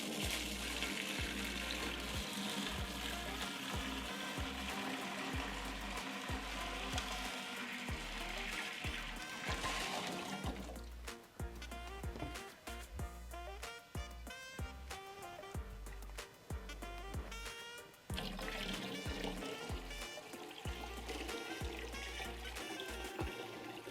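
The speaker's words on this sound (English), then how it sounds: "I'm going to start adding 1 gallon of water at a time" Water poured a gallon at a time into a fish tank, a steady splashing gush that shifts in character midway, close and continuous.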